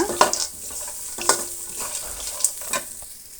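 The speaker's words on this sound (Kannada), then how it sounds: "ಈಗ ಅರಿಶಿನ ಪುಡಿ ಕೂಡ ಮಿಕ್ಸ್ ಮಾಡ್ಕೊಳ್ಳೋಣ." Grated coconut and turmeric powder being stirred in a hot pan for chitranna, with several distinct scraping strokes of a spoon over a soft, steady sizzle, close and moderately loud.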